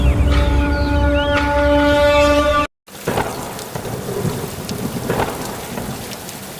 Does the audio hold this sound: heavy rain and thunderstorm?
yes